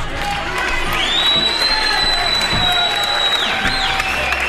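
A television studio audience on a quiz show cheers and claps in a loud, sustained burst, with whoops and shouts over the applause and a bright electronic tone sliding through the middle.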